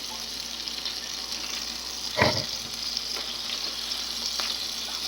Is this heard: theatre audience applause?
no